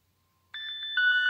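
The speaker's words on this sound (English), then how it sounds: "our phone ringing, and that's the find me option on our smart watch" A Casio Edifice EQB500 watch's find-phone function sets off an electronic phone ringtone suddenly after a short silence, a bright repeating warble that steps up louder partway through, close and clear.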